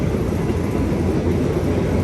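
Steady, loud rumble and rattle of an old Thai train heard from inside the carriage, continuous broadband noise with no pauses and no talk.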